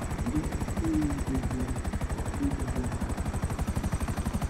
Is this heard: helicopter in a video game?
yes